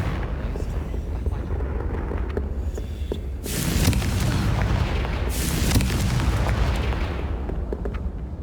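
Explosive Confringo spell blasts in the Hogwarts Legacy game erupt as two loud booming bursts with broad crackling roar, rising over a steady background of combat rumble and game sound.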